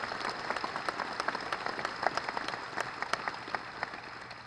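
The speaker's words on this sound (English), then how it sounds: "So please, one more round of applause for our donors" Audience at a groundbreaking ceremony for a Marshall University baseball facility claps together: a steady patter of many hands, moderately distant and fairly soft, with no speech over it.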